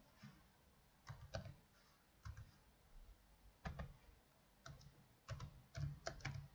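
Keys clack on a computer keyboard in short irregular bursts of quick taps separated by pauses, close and fairly faint in a quiet room.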